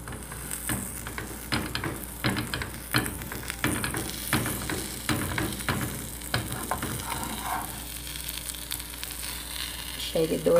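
Cheese-filled bread frying in a pan like tapioca, a steady bright sizzle with soft scraping and irregular clicks throughout, fairly close.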